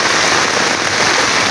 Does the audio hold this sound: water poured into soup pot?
no